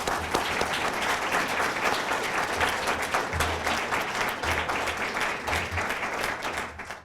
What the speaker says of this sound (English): one more round of applause for Walt Potter